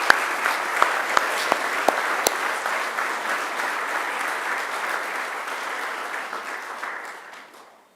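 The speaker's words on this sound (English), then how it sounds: "I ask you to join me with giving them a round of applause too" A graduation ceremony audience in a hall applauding academic staff, dense sustained clapping from a large crowd that slowly fades toward the end, with a few sharp louder claps early on.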